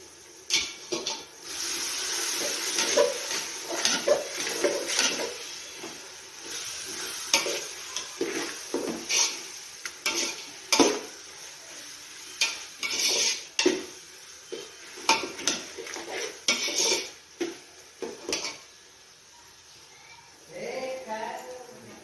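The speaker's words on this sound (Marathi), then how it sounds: "थोडंसं चवीनुसार मीठ सर्व मिक्स करून घेऊया" A spoon stirring salt and coriander powder into chicken biryani masala in a sizzling pan, repeated scraping and clinking strokes in an uneven rhythm over a soft frying hiss, close up, with someone talking at times.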